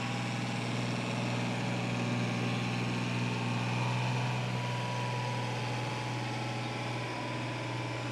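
John Deere 4020 tractor running at a barnyard tractor pull at a county fair, a steady, low droning engine heard at moderate distance with an unbroken tone and no speech.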